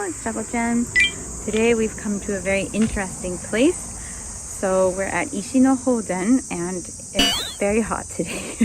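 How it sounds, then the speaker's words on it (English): Cicadas drone in a continuous high, steady buzz through summer heat at the Ishi no Hoden floating rock shrine, persisting beneath someone talking throughout. "As you can hear the cicadas in the background"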